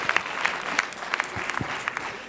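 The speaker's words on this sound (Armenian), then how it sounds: "Ծափարենք Սաթենիկին" An audience at a televised dance competition gala concert breaks into warm applause, a dense, steady patter of many hands clapping together throughout, with a faint murmur of crowd voices beneath.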